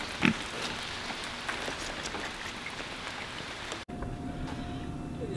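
Steady heavy rain patters on a surface, with an occasional faint grunt from pasture-raised pigs somewhere close by.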